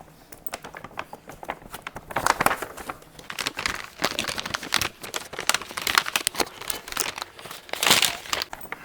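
Plastic packaging crinkles and crackles up close while a toy car is unboxed, irregular rustling bursts growing louder in places, with no talking.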